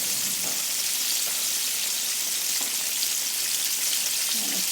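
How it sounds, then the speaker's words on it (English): Thin pieces of flounder fry in hot oil with a steady, dense sizzle that crackles evenly and close up throughout, with no talking. "it shouldn't take too long for this fish to fry because it's not very thick"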